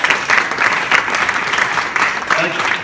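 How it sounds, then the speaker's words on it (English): Steady applause from a crowd at a community event, a dense continuous patter of clapping that stays loud and even throughout. "Let's give her a big round of applause."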